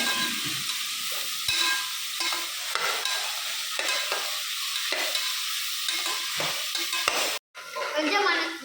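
Tomatoes are added to a pan with ginger-garlic paste and stirred: a steady sizzling fry runs throughout, with repeated scraping stirs and one brief drop-out near the end.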